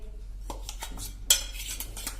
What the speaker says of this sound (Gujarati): હવે આમાં આપણે આ તેલમાં નાખી દેશું પેસ્ટ બનાવી છે ને લસણની